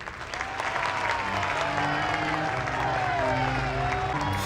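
Applause from a crowd inside a Game of Thrones scene, a steady layered clapping that swells into a broad wash, with sustained tonal music underneath and brief cheering.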